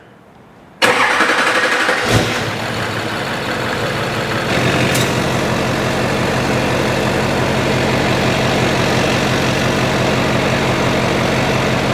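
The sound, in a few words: Duramax diesel engine cranking and starting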